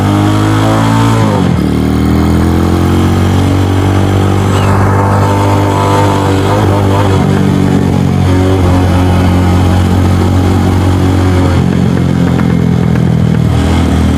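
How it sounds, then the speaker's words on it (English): A DF250RTS motorcycle with a poorly tuned carburetor rumbles close and loud while slowing down, its revs falling and rising in waves with occasional popping and clattering in the exhaust. "Still a little pop. I still got to get the carburetor tuned right"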